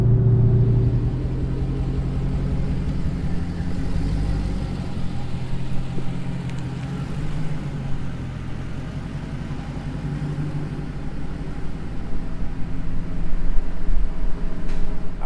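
Deep, steady rumble of a Dodge Hellcat engine while driving, loud and close with a low throaty drone that swells toward the end, and no talking.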